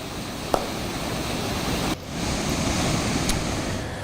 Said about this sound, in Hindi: सड़कों पर समंदर बहता हुआ नजर आ रहा है तेज बरसात के चलते